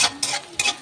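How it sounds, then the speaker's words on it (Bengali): Whole spices (bay leaf, cloves, cardamom, cinnamon) with browning onions are stirred in a cooking pan, giving three quick scraping strokes with a soft sizzle between. "এখন কিছুক্ষণ আমি লাড়ব,"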